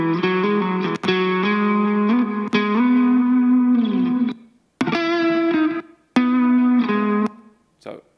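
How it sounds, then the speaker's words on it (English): Sustained instrument notes pass through a noise gate that cuts the signal sharply to silence in the gaps between phrases, leaving abrupt starts and stops with distortion and effects coloring the tone. "And then we can actually hear the effect of the gate."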